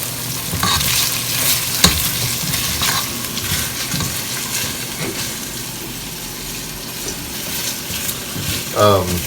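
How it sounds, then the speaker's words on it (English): Loud, steady sizzling of food frying in hot oil, with scraping and clattering as it is stirred around the pan. "Just to coat it and get it nice and fried and toasted."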